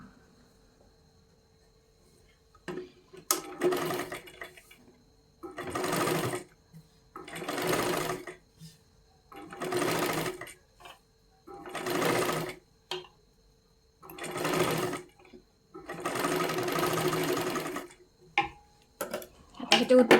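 Sewing machine stitching a katori blouse in repeated bursts of rapid mechanical clatter, about eight runs separated by short pauses, close and clear with faint talk between.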